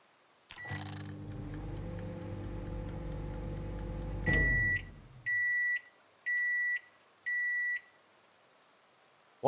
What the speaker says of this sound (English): Let's microwave some popcorn.